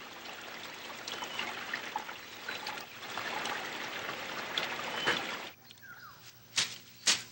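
A stream in Dapitan trickles steadily, a soft, continuous babble of water with a few sharper splashes near the end and a faint bird chirp in between.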